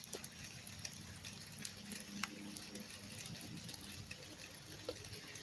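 Rain patters outdoors in a quiet, continuous hiss with scattered light ticks and drips close by, and no one speaking.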